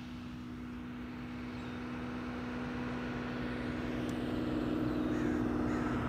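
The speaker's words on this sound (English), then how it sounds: "So a crow somewhere knows that I'm talking." A crow cawing somewhere outdoors during a long road bike ride, faint calls over a constant low hum of nearby traffic.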